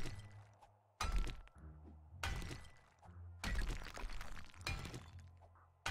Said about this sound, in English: I think I might want to invest in Mother Lode before I do too much rock smashing